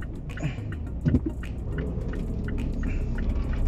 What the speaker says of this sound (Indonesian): Oke, tunggu dulu, ada mobil depan.